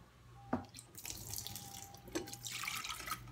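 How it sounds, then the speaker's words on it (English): A cup of water poured into a cooking pot for steaming eggs, a steady splashing stream with a couple of sharper drips and clinks, close and fairly quiet, with no one speaking. "So I'm going to put that water in there right now."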